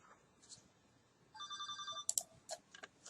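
A telephone rings indoors, a quiet trilling burst of electronic ringing followed by faint clicks and handling sounds, with no one talking.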